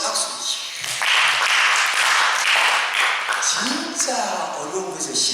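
Church congregation clapping during an evening revival service, a dense burst of applause swelling after a moment and holding for a few seconds before tapering, with voices speaking over the end.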